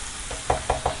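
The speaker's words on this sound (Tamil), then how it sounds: "இதை நல்லா மிக்ஸ் பண்ணி விடுங்க. 1 நிமிஷம் வரைக்கும் நல்லா வதங்கணும்." Green chillies, curry leaves and onion sautéing for egg masala, with a few quick scraping stirs through a soft, steady sizzle, close and fairly quiet.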